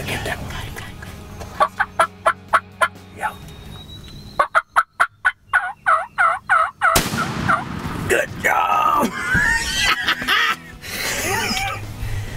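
Three young wild turkey jakes gobble in rapid, rattling bursts on a hillside during a hunt, first at a distance and then closer and louder, with quiet talk between calls.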